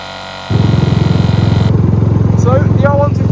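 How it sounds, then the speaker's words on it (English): An R125 motorcycle with a completely flat rear tyre rolls slowly at about 15, its engine a steady close pulsing putter that starts abruptly and holds an even rhythm, no talk. "So the R125 just cruising along at 15 because we've just got a flat tyre."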